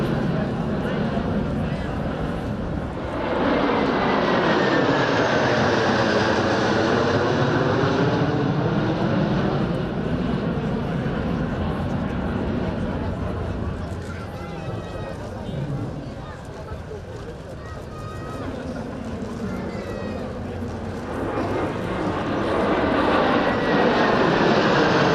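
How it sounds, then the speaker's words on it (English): A mixed formation of Romanian Air Force fighters, four MiG-21s and two F-16s, roars past at an airshow, a loud sustained jet rumble that swells and sweeps in pitch, fades slightly, then builds again. "a mixed formation of the Romanian Air Force's fighter fleet, consisting of 4 MiG-21s and 2 F-16s"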